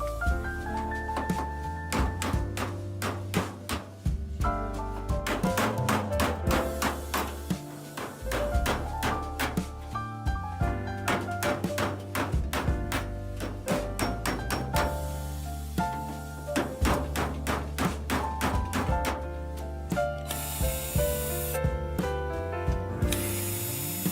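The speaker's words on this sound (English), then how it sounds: "Just chisel it off of there." A part being chiseled off a microwave during scrapping for metals: dense, sharp metallic clicks and taps in rapid rhythmic runs, close and steady, with no talk.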